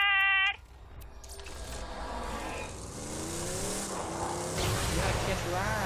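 A vehicle revs up and drives in Borderlands 2, its engine building from near silence into a steady, rising roar that holds for several seconds after a brief burst of game sound.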